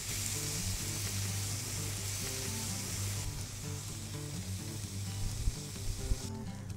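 Marinated lamb sizzles steadily on a barbecue grill over low heat, a dense, even crackle and hiss held at a constant level throughout, with a few faint clicks near the end.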